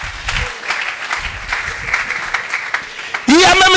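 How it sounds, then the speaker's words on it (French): A church congregation claps together in dense, steady applause mixed with crowd noise, under a preacher's loud voice, and a sharp burst of shouting closes it. "Acclamons fort pour le Seigneur"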